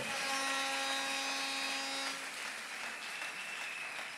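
Applause from a church congregation during a Sunday sermon, a dense steady patter of clapping filling the room, with a sustained tonal hum beneath it that fades after about two seconds.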